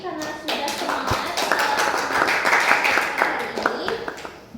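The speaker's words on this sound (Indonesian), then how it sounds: "Beri tepuk tangan dulu untuk diri sendiri karena sudah semangat" A classroom of students claps for themselves at the close of a lesson, a loud, dense burst of many hands applauding together at close range, with children's voices mixed in.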